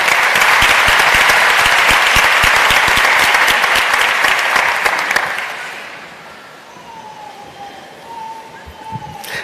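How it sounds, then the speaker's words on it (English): Loud, dense audience applause at a college graduation ceremony that gradually fades out after several seconds, leaving quieter room noise with a faint tone. "let's give Secretary Schoen one more round of applause"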